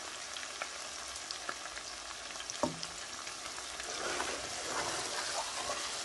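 Yogurt being stirred into lamb karahi in a pan: a steady, close sizzle with soft scraping strokes and one sharper knock partway through, no voices.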